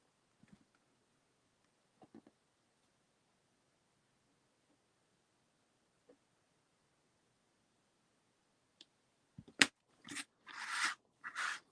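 A lino cutting tool carves a linoleum block for a colour print, starting with a few faint scattered scrapes, then closing in a burst of close, loud, rasping gouge strokes in quick succession.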